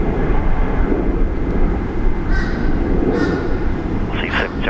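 A Boeing 737-8 at Brisbane Airport gives a steady, broad jet roar that holds throughout, with voices talking over it.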